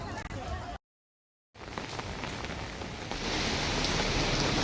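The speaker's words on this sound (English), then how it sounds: "Typhoon is hitting again, bringing prolonged, widespread, and heavy downpours" Heavy typhoon downpour over a big city in China, a dense steady hiss of rain on surfaces that breaks off briefly and then returns, growing louder and fuller toward the end.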